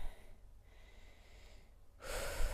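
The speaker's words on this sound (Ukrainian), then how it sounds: "Спокійне дихання" Calm, steady breathing during a stretching workout, soft breaths close to the mic, swelling louder toward the end.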